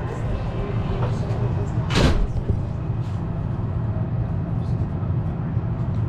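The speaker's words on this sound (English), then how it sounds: "The doors are closing." The sliding doors of a Las Vegas Monorail train close with one short whooshing thud over the steady hum of the car.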